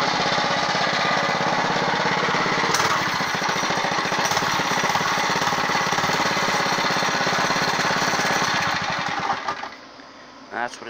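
A newly bought mini bike's small engine runs steadily after being started, a loud, continuous rattling buzz at close range that carries on for several seconds and cuts out abruptly near the end.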